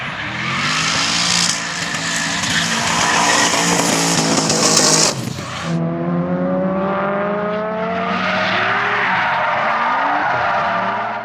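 A Safiro A31 drifts with tires skidding and squealing loudly against the pavement while the engine revs and roars, the screech cutting off before the motor climbs again, close and with no voices.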